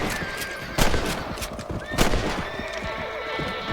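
Rifle shots crack out while hunting rabbits in the Red Dead Redemption video game, two loud reports about a second apart over a steady bed of outdoor game ambience and music.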